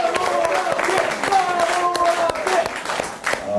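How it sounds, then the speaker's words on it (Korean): An audience at a Korean performance event claps together in a steady, fairly loud ovation, with a voice and faint tonal sounds carrying over the clapping throughout. "다시 한번 우리 수고해주신 산원함께에게 박수 부탁드립니다"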